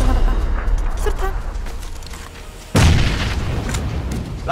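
A thrown grenade in a video game goes off with one sudden, loud booming blast partway through, followed by a rumbling tail, while players keep talking.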